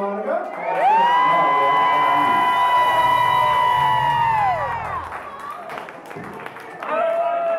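A live audience at a bar band gig at Applegate Lodge cheers for a harmonica player, with a long sustained whooping note over the crowd noise, then scattered shouts and a voice.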